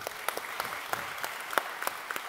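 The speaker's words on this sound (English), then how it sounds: "That's it. Your round of applause." An audience at a public science talk about cooking claps quietly, the scattered applause sounding soft and somewhat distant.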